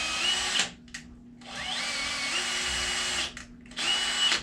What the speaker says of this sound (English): drill a pilot hole right in the center of that bracket, and then drive that screw home.